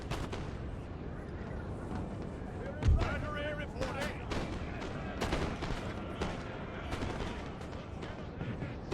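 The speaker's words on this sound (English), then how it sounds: "Get another barrage going on that right hand side as well" Repeated booms and cracks of an artillery barrage in the Napoleon: Total War strategy game, with a sharp heavier blast early on and scattered gunfire continuing over a dense battle din, under talk.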